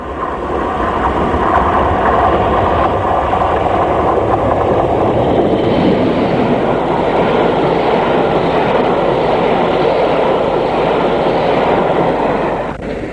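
A British Rail Class 40 diesel locomotive hauls a train past with a loud, continuous engine roar and rumbling wheels, steady throughout with no voices.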